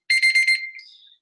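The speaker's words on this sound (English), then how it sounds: "sorry about my timer" Electronic kitchen-style timer going off during a painting session, four sharp, loud beeping bursts in quick succession followed by a fading, softer chirp trailing away.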